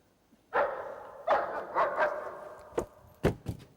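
A dog barks outdoors in the night, several separate loud barks with short gaps, the last few closer together and sharper.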